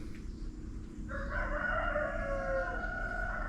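A rooster crows loudly and close over a steady outdoor background at a rural home in Thailand, its drawn-out call rising after a moment of quieter ambient noise, with no talk.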